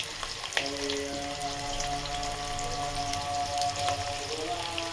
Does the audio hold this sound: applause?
no